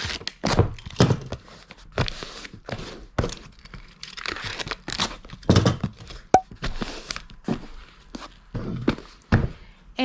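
Paper rustling and crinkling as it is laid on top of sneakers in a shipping box, with soft thumps and handling noises scattered through the sequence, close and fairly quiet.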